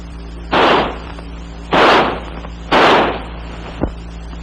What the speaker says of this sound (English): The rifle will fire semi-automatically.